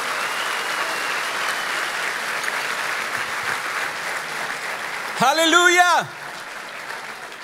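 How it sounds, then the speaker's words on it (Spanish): A crowd claps steadily for several seconds, with a loud voice shouting over the applause near the end. "Den un aplauso fuerte a Cristo Jesús."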